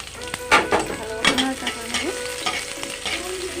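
Vegetable filling paste of coconut, mustard and pointed gourd innards sizzles and fries in hot oil in a pan, with a steady crackle broken by scraping stirs and a few louder bursts, close and fairly loud.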